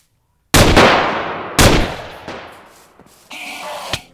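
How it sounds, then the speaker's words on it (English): A skeleton firing a gun in modded Minecraft, two loud close gunshots about a second apart, each with a long echoing decay, followed by fainter game sounds and a small final pop. "he's actually using a gun"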